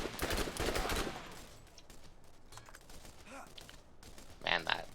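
SMG fire in the video game Borderlands: a dense, rapid burst at the start, then scattered fainter shots and game effects, with a voice speaking intermittently over them.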